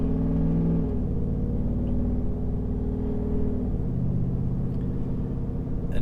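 Ford F-150 with a Corsa Extreme exhaust and ten-speed transmission heard from inside the cab while cruising at 50 mph in eighth gear: a steady, low droning engine hum with mild rumble, continuous and even throughout, no talking.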